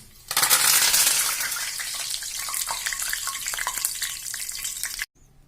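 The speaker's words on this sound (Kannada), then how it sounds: "ಫ್ರೈ ಮಾಡಿರೋಂಥ ಕರ್ಬೇವಿನ ಸೊಪ್ಪು ಕೂಡ ಆ್ಯಡ್ ಮಾಡ್ಕೊತಾ ಇದ್ದೀನಿ" Curry leaves, about ten of them, frying in oil in a pan on a stove that has just been switched off. A loud, dense crackling sizzle bursts up at once and keeps going close up, then cuts off abruptly near the end.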